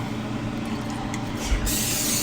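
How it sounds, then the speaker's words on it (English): A short hissing burst of cooking oil spray from a can, brief and close, ending with a slight clunk. "Now I'm going to spray oil."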